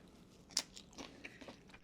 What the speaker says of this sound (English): I'm going to try a little tortilla chip here.